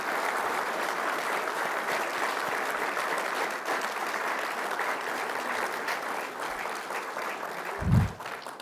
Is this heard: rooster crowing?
no